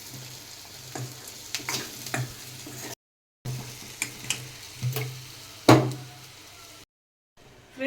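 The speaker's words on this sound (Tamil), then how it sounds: "வெங்காயம் பூண்டெல்லாம் நல்லா வதங்கிடுச்சு" Onions and garlic sautéing and being stirred in a cooking pan, with a steady soft sizzle broken by scraping strokes and a sharper clatter near the middle, plus brief gaps of silence.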